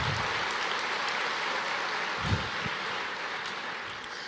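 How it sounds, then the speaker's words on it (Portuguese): Steady applause fills a church congregation, a continuous broadband clatter of many hands with no voices over it, holding at an even level throughout. "Aplauda ao Senhor."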